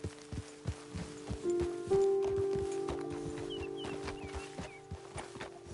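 Horses walk along in Red Dead Redemption II, their hooves clip-clopping in a steady, close rhythm over a low hum, with a brief vocal tone partway through and faint chirps near the end.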